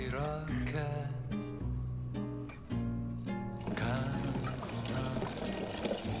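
Cooled syrup pours over fresh mango pieces packed in a jar, giving a steady liquid trickle and glugging that fills continuously at close range, with music playing underneath.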